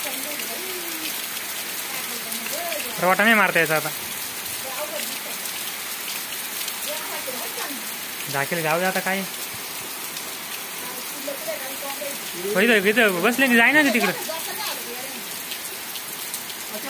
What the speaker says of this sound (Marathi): खूप जोरात पाऊस आला